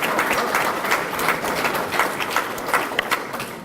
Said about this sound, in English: Give Julian a round of applause